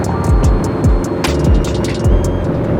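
Ford Mustang fitted with a mild, not-so-aggressive aftermarket exhaust idles with a deep, steady rumble, close and fairly loud, with a few faint clicks and knocks over the engine.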